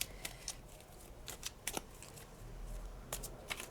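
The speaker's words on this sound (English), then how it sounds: "I'm going to shuffle the tarot just a few minutes." Close-up shuffling of tarot cards, a series of brisk papery flicks and riffles spaced irregularly over a quiet background, no talking.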